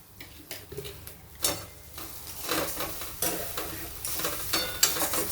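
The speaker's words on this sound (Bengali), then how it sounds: "ভালো করে নাড়াচাড়া করে নেব।" A spoon scrapes and turns ghetkol taro leaf mash in a pan in irregular strokes. Soft sizzling sits underneath, and the scraping grows louder toward the end.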